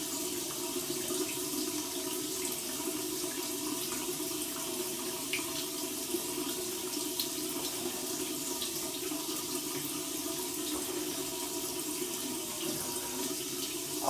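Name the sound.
cold tap water running over an alum block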